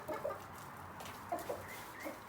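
Silkie cross hens cluck in soft, scattered calls from a nearby coop on a farm, set over a low steady background hum.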